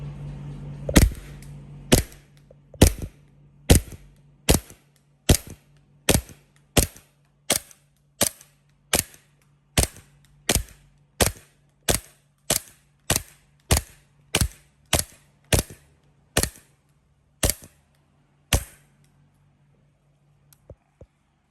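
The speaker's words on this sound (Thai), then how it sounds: "40เมตรนะครับ เดี๋ยวมาลองยิงดู" A Taiwan-made WE Glock 34 airsoft pistol, tuned for higher power, is test-fired outdoors with about twenty sharp, snappy shots in a steady, evenly spaced rhythm that slows slightly toward the end. Each shot is crisp and close, with no talk.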